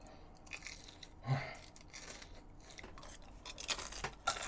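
Close crunchy bites and chewing of crispy boneless fried chicken in a glazed dakgangjeong style, a few crisp crunches spread over a few seconds with no talking.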